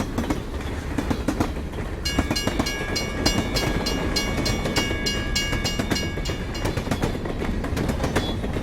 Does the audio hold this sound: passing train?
yes